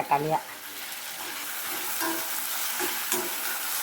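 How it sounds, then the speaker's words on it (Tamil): Tomatoes fry with onions in a pan for an egg curry, giving a steady sizzle with a few soft stirring scrapes after a brief faint voice at the start. "தக்காளியை போட்டு கொஞ்சம் வறுத்து விட்டுட்டு"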